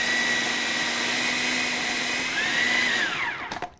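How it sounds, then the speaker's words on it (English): A food processor blends a lentil burger mixture with a loud, steady motor whir that shifts pitch as it slows and stops, followed by a few clunks. "add this mixture along with the lentils to the food processor and blend everything up"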